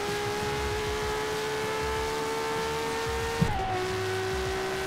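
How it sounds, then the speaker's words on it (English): A LaFerrari engine in the racing game Forza Horizon 3 holds a steady, sustained drone at speed, with a brief pitch drop and small thump near the end as it shifts. "there's just something about the LaFerrari engine"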